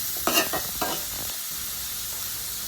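Onions and curry leaves sautéing in a pan for a toddy-shop style beef curry, with a couple of brisk scraping stirs early on, then a low continuous sizzle, close by.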